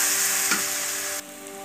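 Garlic and ginger fry in a pan for a spicy Bihari chicken curry, making a continuous loud hiss with one brief knock midway before the sizzle drops a little quieter.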